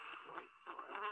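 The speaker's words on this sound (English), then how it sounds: "So you can hear the hum of the hive." A honeybee hive hums in a steady, dense buzz of many insects close by, with slight swells and dips in intensity across a brief stretch and no talking.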